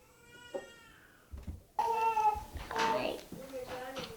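A kitten meowing repeatedly in high, plaintive cries, close and fairly loud, with a person talking around the calls.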